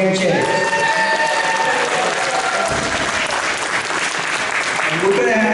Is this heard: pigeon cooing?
no